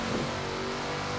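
Car engine in Forza Horizon 4 revving up sharply after a wrong downshift, a short loud mid-pitched roar that holds steady for about a second with no talk over it.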